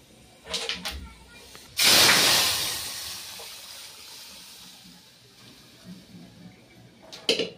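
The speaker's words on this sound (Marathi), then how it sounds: "तर देऊ आता आपण डाळीला फोडणी." Hot tempering poured into cooked dal for a tadka, giving a sudden loud sizzling hiss that gradually fades over several seconds, with faint clatter before and after.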